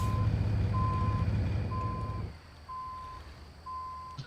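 A heavy truck engine rumbles low and steady in American Truck Simulator, then drops away halfway through, while a loud electronic reversing beep repeats at even intervals throughout.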